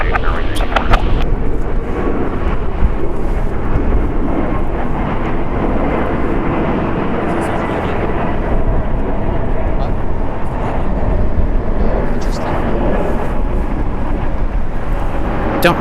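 An airplane at LAX airport makes a loud, continuous broad roar throughout, like jet engines and rushing air, while voices talk over it.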